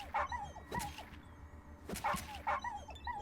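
A dog in the video game ATOM RPG yelps, barks and whimpers in repeated short bursts over low rumbling game ambience, loud and close, with no speech.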